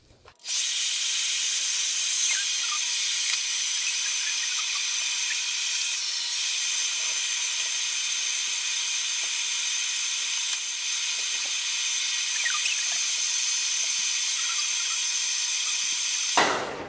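A hair dryer blows steadily on oily drills, one loud continuous airy whoosh lasting the whole stretch after a brief click on, close to the listener with no talking.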